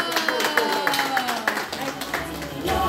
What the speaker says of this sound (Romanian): Bravo, bravo, aplauze cu toții.